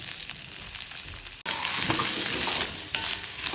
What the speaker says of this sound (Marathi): वाटपासाठी मी कांदा, लसूण, थोडासा आला आणि आपला खोबरा या सगळं आपण भाजून घेऊया पहिल्यांदा.